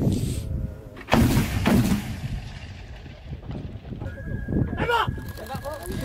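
Anti-aircraft guns firing at missile targets over a beach, heavy booming shots at about one and five seconds, with wind noise and people talking throughout.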